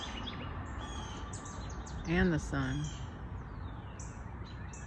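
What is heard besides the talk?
wild birds singing in the morning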